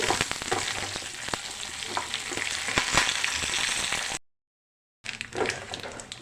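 Tempering spices, dried red chillies and curry leaves fry in half a tablespoon of oil, giving a close, steady crackling sizzle with stirring scrapes. It cuts to silence briefly, then the sizzle resumes.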